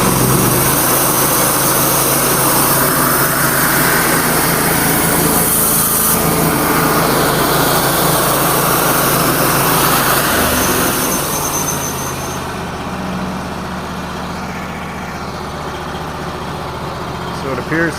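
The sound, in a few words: Wood-Mizer LT35 sawmill engine idling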